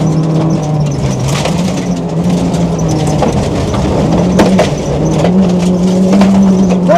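A Nissan Micra rally car drives on gravel in third gear and bogs down slightly. The engine holds a loud, steady drone close by, with a rough crunching rush underneath throughout.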